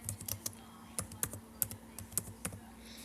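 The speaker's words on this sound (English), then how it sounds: "So you would basically like type the answer in," Computer keyboard keys tapped in an irregular run of about a dozen crisp clicks over a steady low hum, close and moderately quiet, while answers are typed into a Google Sheets spreadsheet.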